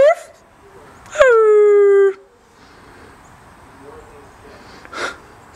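A dog lets out a short whimper, then a sustained howl of a little under a second that slides downward in pitch, close and clear in a quiet room, followed by faint sniffing and snorting.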